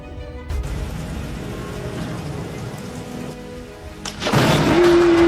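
A thunderstorm brings steady rain with low rumbling thunder, then a sudden loud, crackling burst of close thunder near the end.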